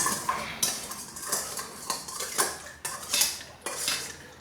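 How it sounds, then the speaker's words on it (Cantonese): A utensil clinks and scrapes rhythmically against a bowl, dissolving 150 grams of sugar in hot water with quick repeated stirring strokes and no talk. "she's dissolving 150 grams of sugar in that 1 bowl of hot water"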